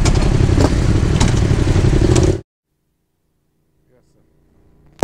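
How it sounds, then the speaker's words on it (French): Loud, close roar of motorcycles riding by with rattling clatter for about two seconds, then it cuts off abruptly into near silence with faint distant sounds. "Ah, regarde, il y en a plein là-bas. Quoi? Des motos."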